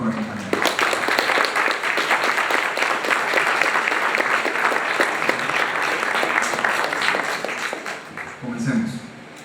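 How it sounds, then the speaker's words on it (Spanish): A large crowd at a gender parity debate breaks into loud, sustained applause that holds steady for several seconds before fading at the end, with some voices mixed in. "pedimos un fuerte aplauso y agradecimiento por acompañarnos"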